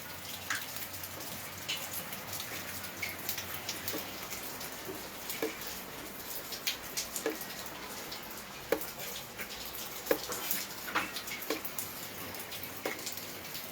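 Steady rain falls continuously outdoors, with scattered sharper drips and patters standing out against an even wash, moderately near.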